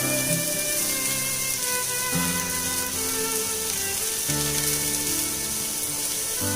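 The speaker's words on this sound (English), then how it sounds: "I have heated the oil. I'll add some onions, ginger," Onions and ginger sizzle in heated oil for a chicken keema fried rice, a continuous soft frying hiss under a steady background musical drone, with no voices.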